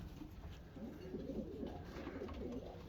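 Pigeons coo softly and steadily in a breeding loft, a low, continuous murmur of several birds at close range with no talking.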